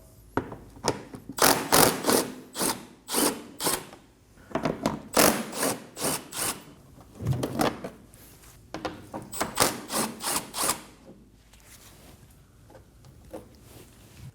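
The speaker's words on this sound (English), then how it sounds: "Using a 10mm socket, go ahead and take those out." A 10mm socket wrench works bolts free beneath a 2014-2024 Nissan Armada, with repeated close ratcheting bursts in an uneven rhythm that fade near the end.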